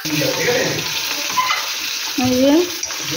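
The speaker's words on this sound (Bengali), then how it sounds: "আর এখানে হচ্ছে মাছ ভাজা, মাছ ভাজা হয়েও গেছে, রুই মাছ ভাজা" Rohu fish fillets fry in a pan with a steady, close hiss and crackle that runs for the whole stretch, swelling slightly near the end.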